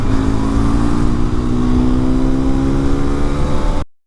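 Hero XPulse 210 motorcycle engine held at high revs at speed, a loud steady drone with a gradually rising pitch, continuous and close, cutting off abruptly at the end.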